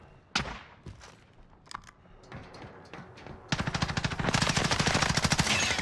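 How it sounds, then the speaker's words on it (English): Shooter video game gunfire: a few scattered single shots give way to a dense, loud burst of rapid automatic fire that keeps going near and steady to the end. "He's shooting."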